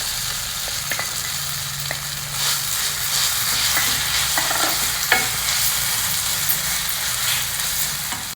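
Amla paste cooks in about half a teaspoon of ghee in a pan, a continuous close sizzle broken by repeated scraping stirs.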